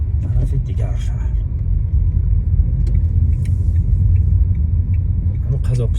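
A car driving along a road between towns, its engine rumbling steadily and close throughout, with people talking over it.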